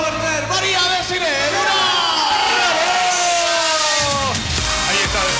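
Loud crowd cheering and whooping at a televised Bolivian variety show as a female host is welcomed onto the runway, with an excited announcer talking over the noise and music.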